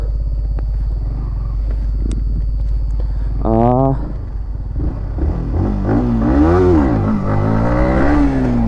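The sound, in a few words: motorcycle engine revving with traction control off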